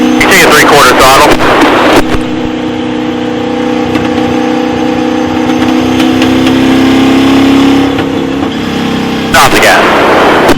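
Race car engine in a driving experience, accelerating at three-quarter throttle with a steady droning roar and rising harmonics, loud and close, in-car, with radio voice instructions heard over it.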